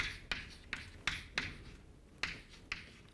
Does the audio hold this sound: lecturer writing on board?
yes